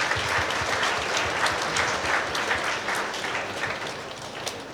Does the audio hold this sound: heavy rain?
no